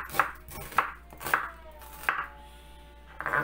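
An onion being chopped for a Korean side-dish seasoning: five or six distinct knife strikes on a board, spaced irregularly and sounding close, with no voices.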